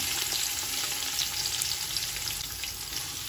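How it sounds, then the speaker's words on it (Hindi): Long-sliced onions fry in hot oil for a mutton tahari, giving a loud, steady, dense sizzle that crackles without pause for the whole stretch. "अब प्याज को अच्छे से भूनेंगे।"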